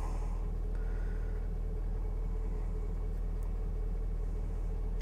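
A Ford F250 with a 6.7L diesel engine runs with a new Garrett turbo fitted, giving a low, even idling rumble that holds steady and moderately faint throughout.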